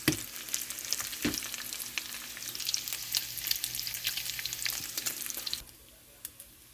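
Bacon sizzles and crackles steadily in a pan, a dense close frying hiss with scattered pops, then abruptly drops to a faint, quieter sizzle near the end.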